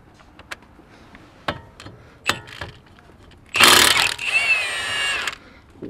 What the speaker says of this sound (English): I bought the Ugga Dugga gun for a reason